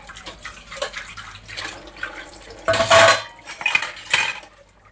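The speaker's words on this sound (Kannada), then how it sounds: "ಸಾಂಗ್ ಹಾಕ್ಕೊಂಡು ಇವತ್ತಾನೆ ಸ್ವಲ್ಪ ಪಾತ್ರೆ ಉಜ್ಕೊಂಡೆ" Close, clattering dishes and cutlery clink and scrape against each other in irregular bursts, with a little water sloshing and no voices.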